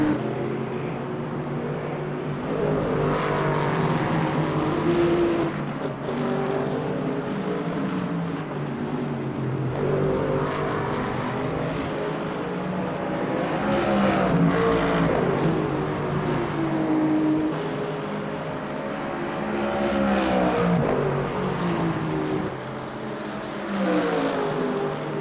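GT3 race cars in Le Mans Ultimate at Spa, with engines droning steadily and rising and falling in pitch as they rev through gears, a continuous, fairly loud mechanical roar throughout.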